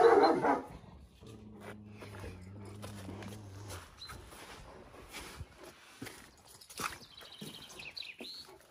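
A dog barks a few times somewhere below, fairly faint and distant, mixed with scattered knocks and background noise.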